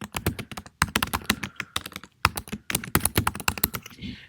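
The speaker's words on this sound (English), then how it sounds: "I'm going to go ahead and delete this real quick and retype it." Fingers type quickly on a computer keyboard in close, crisp bursts of clicking keystrokes, pausing briefly between runs of letters while a web link is retyped.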